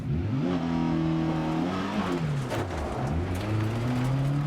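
Rally car engine in Dirt Rally 2.0 revving up and down through gears on a dirt stage, a steady close mid-pitched drone with rising and falling pitch sweeps and no talk.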